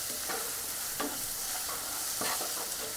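Onion and tomato sizzle quietly in a pan while a spoon stirs them, giving soft steady frying with light scraping strokes at irregular moments and no voices.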